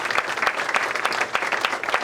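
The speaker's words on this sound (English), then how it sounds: "Let's give our great Mayor Dana Red a round of applause" Sustained applause from an audience at a political campaign launch, brisk and even clapping that fills the room without any speech over it.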